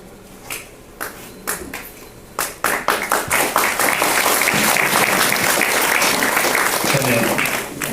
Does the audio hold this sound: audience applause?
yes